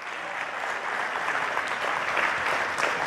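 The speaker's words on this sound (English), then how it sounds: "Give them a round of applause" A church audience breaks into steady, dense applause that holds at an even level for the whole stretch, with no voices over it.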